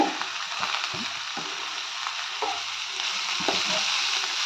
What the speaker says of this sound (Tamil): இது ஒரு ரெண்டு வதக்கு வதக்கிக்கலாம்